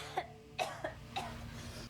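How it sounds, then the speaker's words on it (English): A woman coughs in a scene from the sci-fi TV series The Expanse, giving several short, sharp coughs in a quiet, muffled sequence at low volume. "She's even coughing it up."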